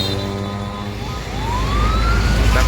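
A fire truck siren wails past a parked tour bus, its rising sweep growing louder over a steady low traffic rumble, with no voices.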